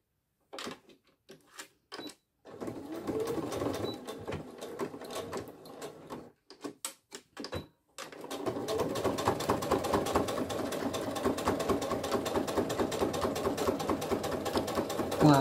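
A sewing machine stitches the zip seam of a flat coin purse, with short stop-start bursts of mechanical whirring early on, then a longer steady run of close, loud stitching.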